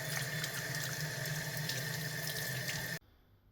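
Tap water running steadily as a robot vacuum's dirty-water filter is rinsed under it, a loud, even splashing rush that cuts off abruptly near the end, leaving quiet.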